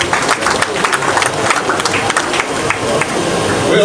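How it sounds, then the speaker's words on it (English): At an awards ceremony honouring outstanding performance and community impact, an audience claps in a dense, close, fairly loud burst of applause that holds steady throughout. "Please let's give them a round of applause."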